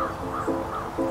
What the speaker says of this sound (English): B is for blue jay.